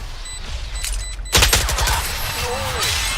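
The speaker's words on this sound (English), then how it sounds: "Placing swarm grenade. Swarm grenade out." A swarm grenade goes off in the Valorant shooter, a sudden burst of rapid crackling pops and bangs that begins abruptly after a quieter stretch and keeps rattling loudly near the listener.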